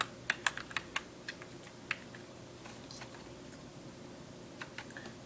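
Password being typed on a computer keyboard: a quick run of close, crisp key clicks in the first two seconds, then sparse taps with a short burst near the end, all over a quiet room hiss.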